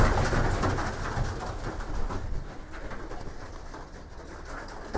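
Racing pigeons coo amid a busy, noisy loft background while being given a peanut treat, their low calls blending into steady ambient rustle and hiss without voices.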